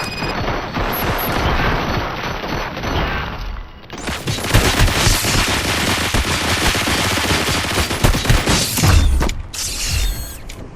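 Sustained automatic gunfire in the RoboCop: Rogue City video game, dense rapid bursts with mechanical clatter and booms, loud and continuous after a brief lull, with no talking.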